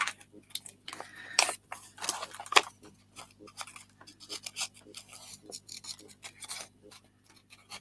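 Scissors snipping fabric and paper scraps while fussy cutting around a flower motif, a close run of quiet, crisp blade closes and rustles at an irregular pace.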